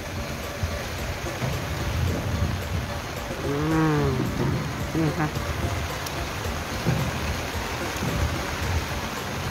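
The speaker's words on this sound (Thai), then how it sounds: "ฝนตกแรงนะคะตอนนี้นะคะพี่น้อง" Heavy rain pours down beside a fast-flowing, flooding river in Ubon, a constant loud hiss with someone talking over it and a brief tonal animal-like call in the middle.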